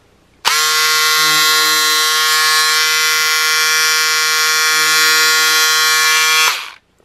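A loud, steady electric buzzing whine from cordless electric scissors cutting starts abruptly, holds evenly for about six seconds, then cuts off.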